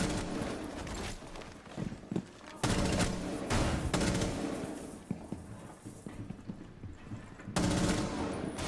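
Rapid bursts of automatic gunfire in the Rainbow Six Siege shooter game, several loud sustained volleys broken by short pauses, with faint muffled thuds between the bursts.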